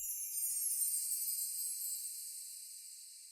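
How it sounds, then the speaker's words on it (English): A high, shimmering chime effect in a 90s R&B-style beat, sustained and fairly faint with a gentle slow fade, heard alone with nothing underneath. "I've added this chime sound effect"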